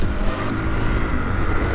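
A KTM EXC 450 dirt bike with an Akrapovič exhaust and the dB-killer insert in place roars steadily around a corner, a loud, close, continuous engine drone with no pauses.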